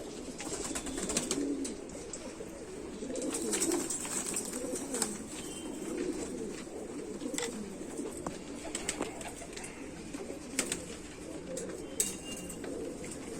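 Indian Rampuri pigeons cooing softly in a steady, continuous murmur of low throaty coos, with faint chirps and clicks over a noisy background.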